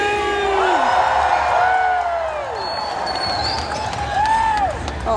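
A convention crowd at LA Comic Con yells and whoops loudly, voices rising together in a sustained cheer, with shrill individual shouts standing out over the mass of noise.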